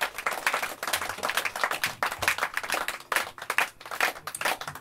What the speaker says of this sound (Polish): to są dla ciebie też oklaski